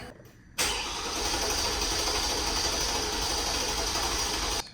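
A Toyota Prius engine, just after its battery is reconnected, fires up suddenly after a brief quiet moment. It settles into a steady, fairly loud idle for about four seconds, then cuts off abruptly.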